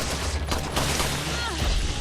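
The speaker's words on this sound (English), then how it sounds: "I'm getting shot at by somebody." Gunfire in Resident Evil 4 crackles as a dense, steady burst of shots lasting about two seconds, fairly loud with a busy game soundscape and no clear speech.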